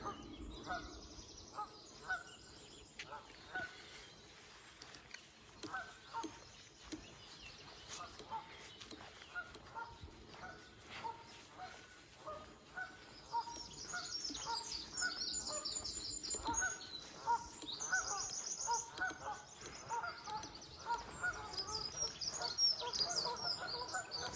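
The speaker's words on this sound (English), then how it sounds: "the noisy geese are leaving us for a while" Geese honk repeatedly, faint and fairly distant at first, then louder toward the end, with other birds chirping in the background, at a lakeside sculpture park.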